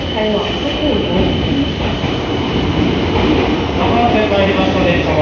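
A Meitetsu 6000 series train rolls into Kanayama station with a loud, steady rumble of wheels on track and a faint metallic squeal, no voices over it.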